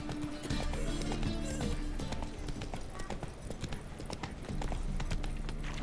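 Roach, Geralt's horse in The Witcher 3: Wild Hunt, gallops with a steady, rapid clip-clop of hooves that is loud and close. A brief whinny rises over a busy game soundscape.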